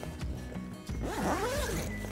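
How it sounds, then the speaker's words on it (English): A zipper runs down along the end opening of a Darche Ridgedome swag tent in one quick, close, continuous pull lasting about two seconds. "at this end, you zip this down"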